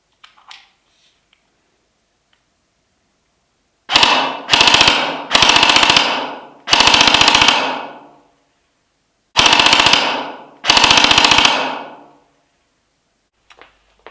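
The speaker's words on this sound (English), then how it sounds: "I'm gonna give you a full auto burst in the dark." An airsoft gun fires full-auto bursts in the dark with a T238 Spitfire tracer unit attached, six sharp rattling bursts of about half a second to a second each, loud and close, separated by brief silent gaps.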